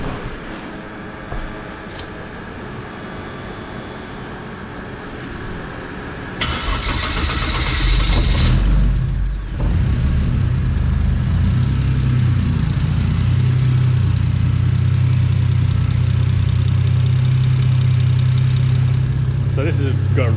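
Turbo Barra Greentop engine in a VL Commodore: the starter cranks, the engine catches with a loud burst, then settles into a deep, bassy, steady idle, with a person talking over it at the start.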